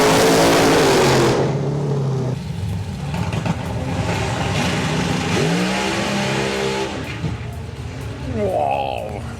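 Heavily modified front-wheel-drive 1.6 turbo Honda Civic drag car launching hard at the Euro Finals, a loud roaring engine rising and fading into the distance, with an announcer talking over it throughout.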